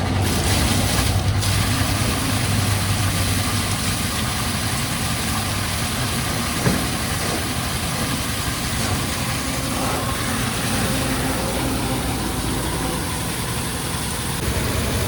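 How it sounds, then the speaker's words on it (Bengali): A motor pump engine runs continuously while loading water at a fish pond during a net harvest, a loud, steady droning hum that holds near and constant. "দেখতেছেন যে মোটর কিন্তু মেশিন স্টার্ট দেওয়া হয়ে গেছে।"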